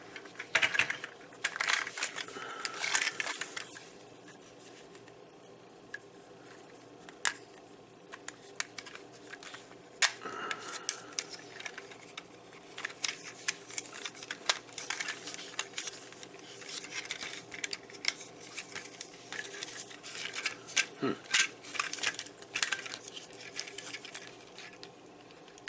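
Plastic Transformers Unite Warriors UW-02 Menasor figure being handled and transformed, with close, dense clicks, taps and rattles of plastic parts coming in irregular bursts throughout, and no talking.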